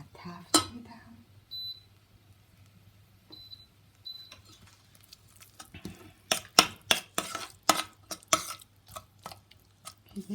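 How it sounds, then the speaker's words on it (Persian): Red lentil stew with a spoonful of tomato paste being stirred and sautéed in a pot: a steady run of close scraping and clinking spoon strokes, with faint sizzling and a low hum beneath. "من الان یه قاشق روبه گوجه فرنگی رو بهش اضافه میکنم"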